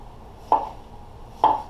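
A sharp chef's knife slicing a yellow pepper on a cutting board, two distinct crisp chops about a second apart, close and clear over a quiet background.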